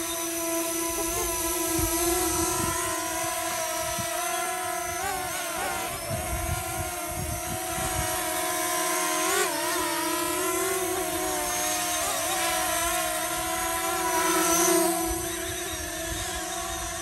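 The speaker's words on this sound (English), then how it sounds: "That noise is my father trying out his new drone." A new drone flies nearby with a steady, high, whining rotor buzz that swells and dips in pitch as it manoeuvres, constant and loud for the whole stretch, with no talk.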